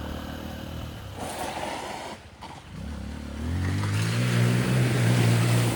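A small dual sport motorcycle rides along a woodland trail in Georgia. Its engine drones steadily nearby, dips briefly, then climbs into a louder, rising note toward the end, with no talking.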